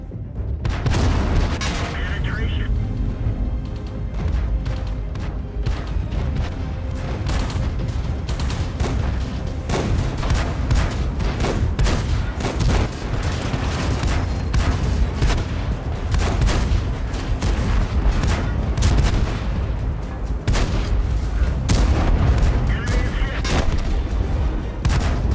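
American and British heavy tanks trade cannon fire in World of Tanks, a dense run of loud booming shots and explosions across a tier-matched battle, with a commentator talking over it.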